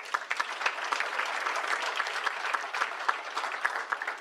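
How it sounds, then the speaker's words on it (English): An audience claps steadily at a lecture on regional integration and development policy, a dense, moderately loud patter of many hands sustained throughout with no voices over it. "I really am going to need you to clap a little bit harder"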